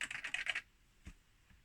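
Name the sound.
typing on an Atari 520ST computer keyboard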